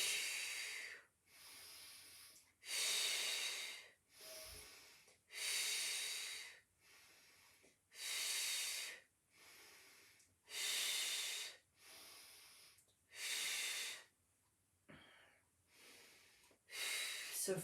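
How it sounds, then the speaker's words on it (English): Deep, slow breaths in and out during a Pilates exercise, about nine long airy exhalations in an even rhythm with short quiet gaps, close and clear with no talking. "So we breathe in, breathe out."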